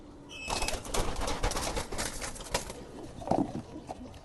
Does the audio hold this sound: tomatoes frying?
no